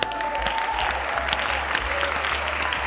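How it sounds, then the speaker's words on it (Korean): Applause at a Korean presentation on the Galaxy Express 999 universe: dense, steady clapping from a group, fairly close and sustained for about three seconds, with no voices over it. "자, 박수."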